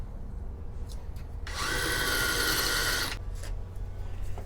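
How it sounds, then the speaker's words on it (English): A power drill bores a hole into a wall for mounting a video doorbell, one steady loud whine lasting about two seconds, framed by quieter handling noises before and after. "Now we're gonna go ahead and drill that in there."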